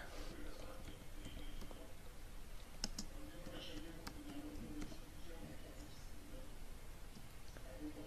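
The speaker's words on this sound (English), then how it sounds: "Just type the code here." Soft clicks of typing code on a computer keyboard, faint and irregular under a steady background hiss, with a few sharper key taps standing out.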